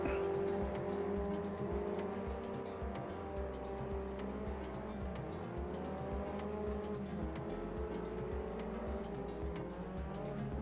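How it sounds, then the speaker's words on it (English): A race car engine in the Automobilista 2 sim racing game drones steadily, its pitch shifting up and down through gear changes with faint tire noise, continuous and moderately loud throughout. "Can you still hear the car engine?"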